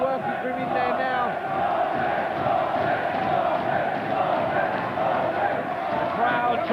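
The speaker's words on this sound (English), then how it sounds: "The crowd trying to rally both fighters who have given us a tremendous, courageous clash here in Liverpool tonight" A boxing crowd in a Liverpool arena roars and cheers steadily throughout, a dense sustained wall of voices with shouts rising above it and no break in the noise.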